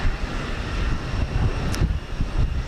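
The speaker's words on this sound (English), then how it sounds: "So the United 757 getting the jump on this" United Boeing 757 taking off at Houston Intercontinental, a steady, broad jet engine roar that holds throughout, heard from a distance with no voices.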